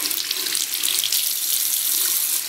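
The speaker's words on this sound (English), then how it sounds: "And then we are going to start adding our water." Warm water runs steadily from a tap into a sink while a baking soda face mask is prepared, a close, loud, continuous splashing hiss with no voices.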